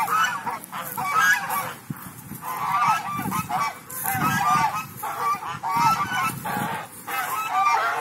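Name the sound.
geese honking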